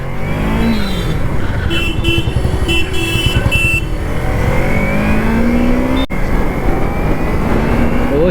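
Car exhaust revving loudly amid busy road traffic, engine rising and falling continuously close by, with a passing horn toot and other vehicles droning around it.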